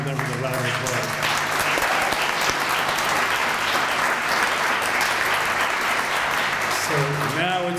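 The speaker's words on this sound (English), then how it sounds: "And I ask you to honor them with a round of applause." Sustained audience applause at a downtown association's annual meeting, a steady dense roar of many hands clapping throughout, with faint voices underneath.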